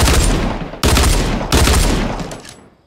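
Dual pistols firing in the video game Fortnite, a dense rapid volley of loud gunshots in three bursts with brief gaps between them and no voices.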